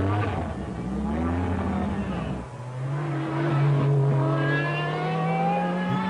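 A Lancia Delta S4 prototype rally car from 1984 revs hard under test, its engine note rising and falling in a loud, raspy howl across several seconds, with a voice faintly audible beneath the roar.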